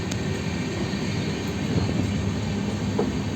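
A moving train rumbles steadily on its rails, a constant low roar with no pauses.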